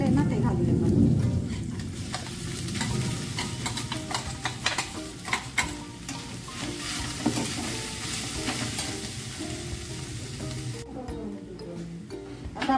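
Ground soybean paste and ginger are stirred into a hot pan, scraping and sizzling steadily with loud frying crackle throughout, while someone talks over the cooking.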